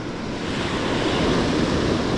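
Ocean surf breaking steadily during a salmon fishing session, a loud continuous wash of waves with wind buffeting the microphone, no voices.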